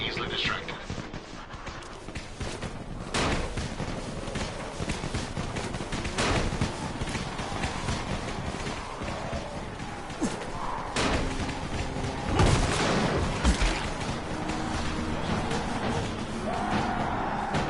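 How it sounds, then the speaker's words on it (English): Firecrackers burst amid a zombie crowd in the Dying Light video game, a rapid crackling fusillade of pops and thuds over a continuous noisy bed, with a voice speaking over it. "You still have some firecrackers, don't you? Just throw some into the crowd."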